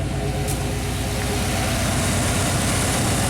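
A classic Chevy engine idles while warming up, holding a steady, loud, low rumble with an even throb and no change in pace across the short stretch.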